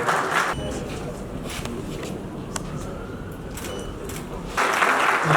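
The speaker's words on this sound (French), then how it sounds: "Je peux applaudir, c'est encourageant." Applause breaks out at a formal council session ceremony in Gabon, with bursts of clapping at the start and again near the end and a low room rumble in between.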